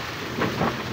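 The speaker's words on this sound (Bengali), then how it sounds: "প্রচুর বাইরে বৃষ্টি হচ্ছে এবং বাতাস" Heavy rain and gusting wind outside, heard from beneath a shelter as a steady, dense wash of noise with a slight swell midway through the brief moment.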